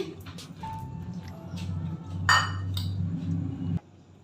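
Potatoes drop into a pressure cooker holding water, making clunks and clinks against metal with a brief splashy burst midway, followed by a low hum that cuts off abruptly.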